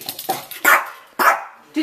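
A dog barks in three sharp, close bursts spaced about half a second apart, with faint whimpering sounds between them indoors.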